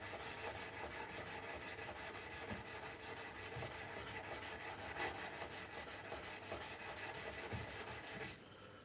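Steady hand sanding of a knife blade at a bladesmith's bench, a continuous rhythmic rubbing and scraping of abrasive strokes running close and even throughout before easing off at the very end.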